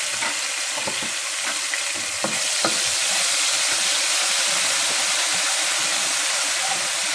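Steady sizzling and crackling of garlic-ginger paste sautéing in a hot pan, with a few scraping stirs early on, close and continuous.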